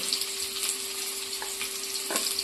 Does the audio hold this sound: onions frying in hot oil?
yes